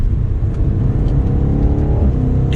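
A 2022 BMW M8 Competition Gran Coupe, weighing around 4,400 pounds, drives under light acceleration. Its engine gives a steady, loud hum over a deep road drone, heard from inside the car.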